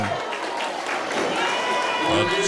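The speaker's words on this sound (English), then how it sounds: "The crowd is loving it here." A wrestling crowd at an NHW Full Throttle independent show cheers and applauds after a pinfall win, a steady wash of clapping and shouting from the audience under a commentator's voice.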